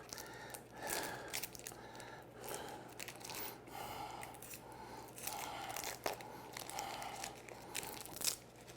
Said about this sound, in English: And now I'm going to peel the skin off.